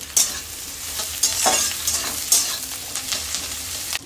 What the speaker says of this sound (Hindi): देखुन पियाज फ्राई होगला जतकी दरकार थिला